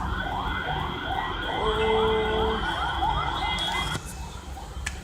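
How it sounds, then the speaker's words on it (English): An ambulance siren wails in rising and falling sweeps from a street near a hospital, growing louder and then fading, while a person briefly speaks over it. "Oh, that's the ambulance."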